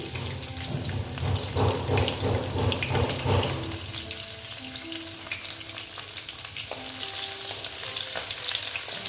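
Garlic fries in oil for a Bengali dried-fish curry, a dense, close sizzle and crackle that runs throughout with no talking.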